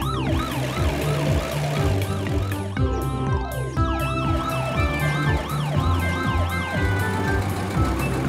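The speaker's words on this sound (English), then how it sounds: "Look, the ambulance is driving very quickly." A cartoon ambulance siren wails continuously in rising and falling sweeps, loud and close, over a low rumble of traffic.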